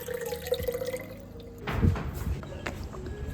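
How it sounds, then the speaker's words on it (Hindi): Mixed cold and hot water is poured in a home kitchen, with close splashing and dripping that swells into a louder gush midway, then settles into trickling. "ठंडा गर्म मिक्स करके उनको दे रहे हैं।"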